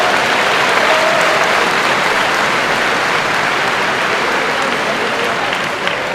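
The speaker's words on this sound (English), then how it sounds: "Give yourselves a round of applause" A large audience claps loudly and steadily at a Missouri Boys State closing ceremony, a continuous dense wall of applause lasting throughout with no break.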